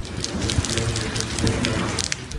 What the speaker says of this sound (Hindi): वक्फे वक्फे से बारिश हो रही है, जिससे खुनकी हो गई है।